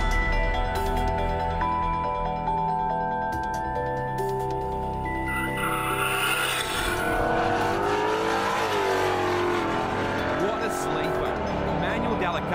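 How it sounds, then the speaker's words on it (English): A twin-turbo 6.2-litre V8 Jeep Cherokee SRT8 launches hard off the line at the Snowy Mountains 1000, its engine note rising and sweeping as it pulls away with tyre noise, while a commentator talks over it. "Twin turbo V8 Jeep Cherokee SRT 8. Watch the way this thing leaves the line."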